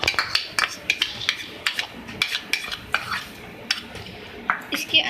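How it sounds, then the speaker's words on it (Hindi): Yogurt is spooned into a kilogram of raw chicken for a nawabi marinade, with a spoon clinking and scraping against the bowl in quick irregular strokes and wet squelching, close and moderately loud. "इसके अंदर मैं 1 कप दही ऐड करूँगी"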